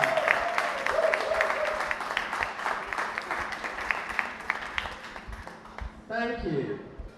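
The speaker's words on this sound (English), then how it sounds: "Give Christy Blackman a resounding round of applause for performing that." An audience applauds a performer at a community center opening, the clapping steady and full before tapering off, and a voice breaks in near the end.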